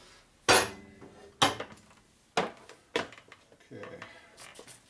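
A lead dead blow hammer strikes a part to seat it against lathe chuck jaws while a 1941 Harley WL 45 flathead motor is built. About five sharp, dull metallic taps land at uneven intervals, fairly loud and close.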